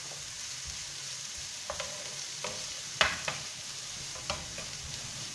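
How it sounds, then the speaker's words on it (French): Bell peppers sizzle and fry in a pan while a utensil stirs them in a few scraping, clattering strokes over the steady hiss. "On remue de temps en temps. Là, on va rajouter les poivrons"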